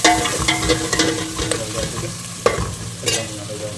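Cinnamon, cloves and cardamom fry in hot oil for chicken dum biryani, with a loud close sizzle and repeated scrapes and clinks as the spices are stirred.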